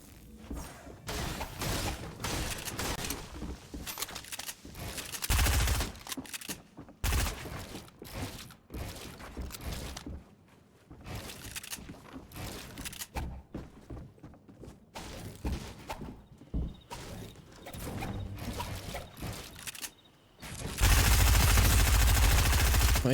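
Rapid SMG bursts in Fortnite, several clusters of quick shots with pauses between them, fairly close, ending in a loud sustained burst of noise, with little or no talk over it.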